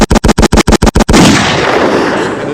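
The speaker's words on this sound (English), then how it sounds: "Where's the gunshots?" Gunshot sound effect played during a podcast: eight sharp, loud shots in quick, even succession, then a fading reverberant tail.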